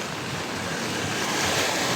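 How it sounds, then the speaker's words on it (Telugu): Heavy floodwater surges fast through a stream channel in a residential area of Anantapur after rain, a loud, steady roaring rush with no pauses, close by and alone. "ఆ నీళ్ళు స్పీడ్ చూడండి ఎట్లా పోతున్నాయా"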